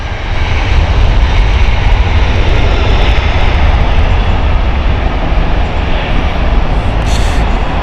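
Airbus A321 airliner engines roaring loud and steady at Heathrow Airport, a broad sustained jet rumble with no voices.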